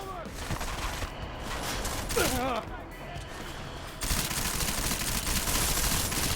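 Gunfire in the video game Deus Ex: Mankind Divided: rapid, loud rattling volleys of automatic shots that run continuously through the scene, with mechanical clatter and a voice calling out over the shooting.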